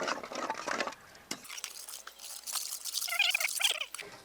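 A spoon stirs a batter of cornflour and cardamom powder for kunafa, making scraping, clinking and sloshing bursts against the vessel, with a short quiet gap before the stirring picks up again.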